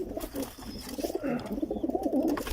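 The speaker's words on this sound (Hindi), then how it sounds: "टैडी कबूतरी है और बांका कबूतर है, नीली आँखों वाला।" Soft, throaty pigeon coos repeat in a gentle rolling rhythm, close by and fairly quiet, with no voices.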